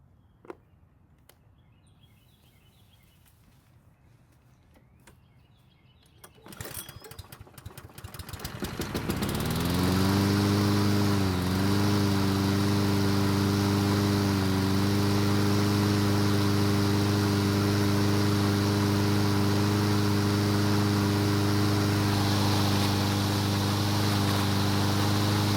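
A lawn mower engine, carburetor freshly primed by hand with fuel, is pulled and catches after a few seconds of quiet handling noise, then roars up and settles into a loud, steady run close by.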